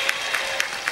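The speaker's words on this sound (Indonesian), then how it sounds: "Tepuk tangan untuk Mas Febri" Audience applause at a lively Javanese comedy religious talk, a steady wash of clapping through the whole moment with a few louder bursts, no speech over it.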